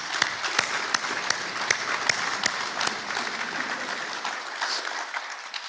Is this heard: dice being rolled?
no